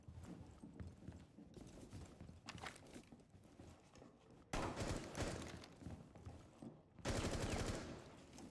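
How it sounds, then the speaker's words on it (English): Gunfire in the video game Rainbow Six Siege, rapid bursts of shots, with dense loud volleys arriving midway and again near the end, amid clattering footsteps and background game sounds. "Here's some gunfire."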